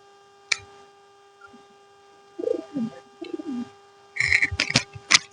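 Golla pigeon giving soft, low coos at close range, in a few brief bursts between quiet gaps, with sharper clattering and fluttering noises toward the end.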